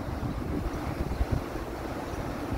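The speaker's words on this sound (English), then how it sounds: "And it's windy, the wind is" Gusty wind buffeting the microphone in low, uneven rumbles, steady throughout with a few stronger bursts.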